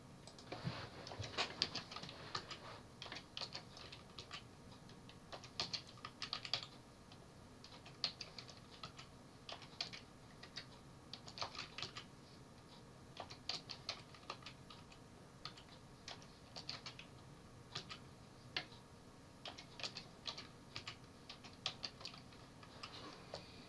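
A 3 by 3 matrix is entered on a calculator keypad, a steady run of quick, light, close key taps in uneven rhythm over quiet room noise, with no speech.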